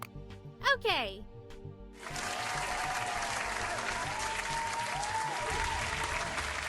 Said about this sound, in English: Clap it up for that one.